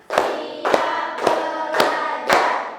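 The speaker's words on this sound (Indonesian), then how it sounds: "Tepuk 1. Tepuk 2. Tepuk 3." Students in a classroom clap in unison for a pep routine before class, five strong, regular claps about half a second apart with room echo between them, close and prominent.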